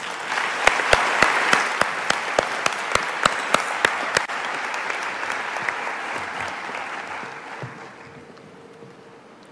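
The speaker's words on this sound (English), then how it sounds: "Please give a warm round of applause for Nombendulo Mkhatshwa." Audience applause at a lecture hall event, a full round of clapping with sharp individual claps standing out early, then thinning and fading away toward the end.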